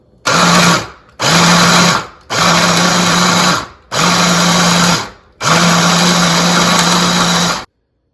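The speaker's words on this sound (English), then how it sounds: "first we will get these vegetables coarsely blended in a hand food processor" A hand food processor coarsely blending vegetables whirs loudly in five short bursts with brief gaps between them, each burst a steady motor drone close by, then stops.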